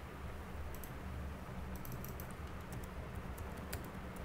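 Quick, light keystrokes on a computer keyboard, irregular bursts of faint clicking over a low steady background hum, close and quiet, no voices.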